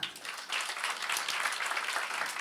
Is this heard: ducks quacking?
no